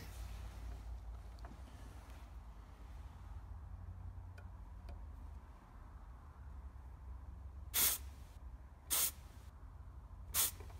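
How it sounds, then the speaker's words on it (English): Gas escapes from a tailgate gas strut on a Nissan Patrol GU3 barn door in three short, sharp hissing bursts near the end, after a stretch of quiet background rumble. "following the manufacturer's instructions, I let some of the gas out"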